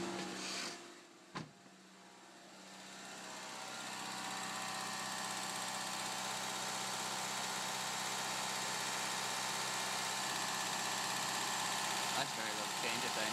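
A car engine idles steadily with a low, even hum after a throttle position sensor is unplugged, preceded by a brief click near the start; the idle is sustained and moderately loud, with no talk.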